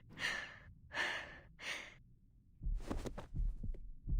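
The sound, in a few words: heartbeat pounding, from video game Reverse: 1999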